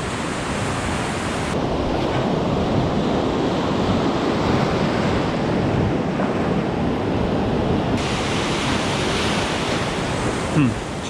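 Waves and churning, turbulent water at a fishing spot with high water, a steady loud wash of surf-like noise that continues throughout with no break.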